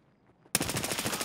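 Gunfire in the shooter game Escape From Tarkov bursts in after a brief near-silence: a loud, rapid automatic stream of evenly spaced shots that continues to the end.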